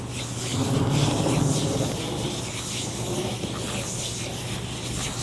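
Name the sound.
rubbing gloves together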